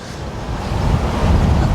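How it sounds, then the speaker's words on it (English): Wind gusting across an open fishing lake, a loud, continuous low rumble and buffeting against the microphone, rising slightly toward the end, with no talking. "It's not ideal today, it's a little bit windy."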